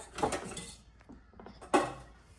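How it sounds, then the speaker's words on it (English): A metal colander handled in a home kitchen while making panipuri, with two sharp clanks against pots, one near the start and one near the end, and softer knocks between them. "Now I'm going to use a colander"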